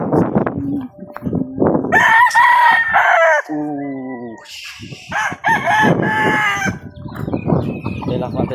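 A rooster crows loudly and close by, several drawn-out calls in a row, with clucking chickens and a voice speaking around them.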